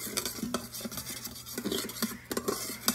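Sauce being mixed in a nearly full pan with meat drippings, a spoon scraping and clinking against the metal in quick irregular strokes over a faint background hum.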